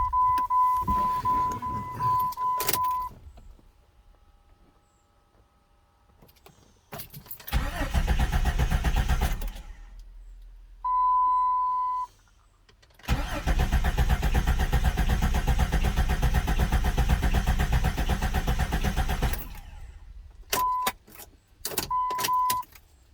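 A Jeep Grand Cherokee from the 1999–2004 range, fresh from a head gasket replacement, cranks and fires after chime tones. Several loud cranking bursts are followed by a sustained rough running stretch, close to the vehicle.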